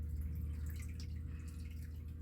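Water pours from a kettle into a pressure cooker for lentil soup, a soft continuous trickle and splash, faint and steady throughout.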